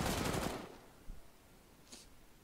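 Video game gunfire opens with a loud burst of rapid automatic shots, then thins to a single thud and a faint, brief crack before falling quiet.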